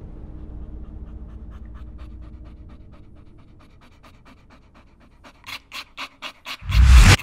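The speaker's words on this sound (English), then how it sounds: "a little bit of a dog panting" A dog pants rapidly and steadily close by, a soft rhythmic huffing over a low hum, ending with a few sharper breaths and a loud rustle.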